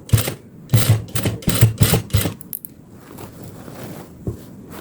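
A sewing machine basting a hidden zipper, using a single-sided zipper foot, runs in several short close bursts of stitching, then drops to quieter handling rustles with one last brief tap.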